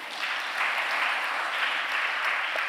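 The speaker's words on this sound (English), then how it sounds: "Let's give a proper hand clap of praise to the Lord." A congregation at a mid-week church service breaks into steady applause, a thick continuous wash of many hands clapping in praise, even and sustained throughout.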